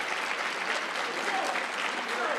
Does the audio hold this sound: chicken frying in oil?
no